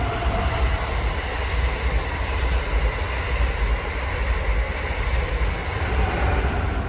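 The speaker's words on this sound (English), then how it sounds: "we have a train coming. You may hear that go by" A train rumbles past steadily, a continuous low roar of wheels and cars on the rails that stays loud throughout.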